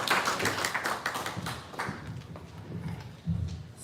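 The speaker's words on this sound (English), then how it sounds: "Please give her a round of applause." Dense, steady applause from an audience at a holiday reception and donor advisory board installation, continuous clapping throughout with a slight swell near the end.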